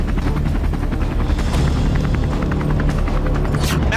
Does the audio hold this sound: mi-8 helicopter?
yes